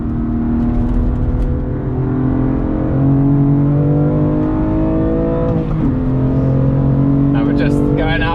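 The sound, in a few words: BMW M2 car driving on Snetterton race track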